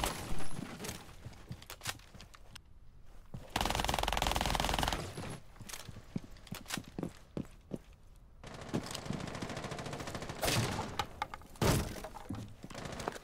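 Gunfire in Rainbow Six Siege played on console: sharp, close shots fired in repeated bursts and single cracks, with a sustained rattling stretch near the middle and quieter gaps between volleys.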